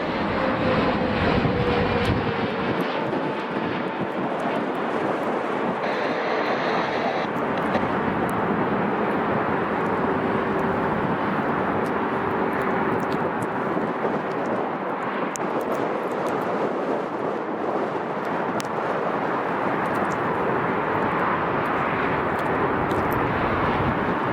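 A Qatar Airways jet at Chicago O'Hare airport gives a loud, steady engine roar and broad rushing whine for the full length, with some wind buffeting on the microphone and no speech.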